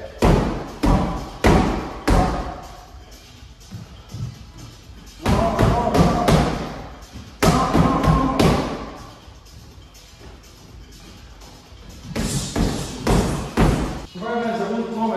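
Punches thud into a pear-shaped punching bag in quick bursts of heavy, close impacts, with pauses between combinations and a coach's voice talking between them.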